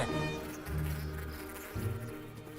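Insects buzz loudly and close, droning tones rising and falling in a few overlapping waves.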